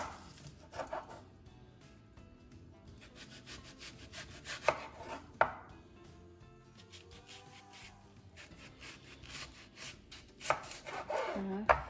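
A knife chops onions on a cutting board, with several sharp, distinct knocks spread across a quiet kitchen background and soft rustling between strikes.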